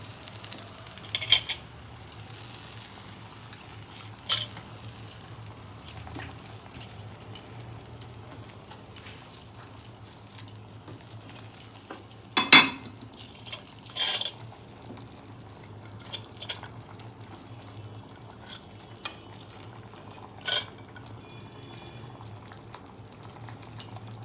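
Parshe fish simmering in a mustard and yogurt gravy, a low steady bubbling hum broken by sporadic clinks and scrapes of a spoon stirring the pot.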